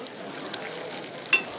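Eggs frying in a pan, salted, a soft steady sizzle with faint crackles and one brief sharper pop near the end, close and quiet with no talk.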